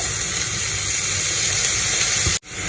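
Meat dropped into a pan of softened onions, a loud continuous hissing sizzle that cuts off abruptly near the end.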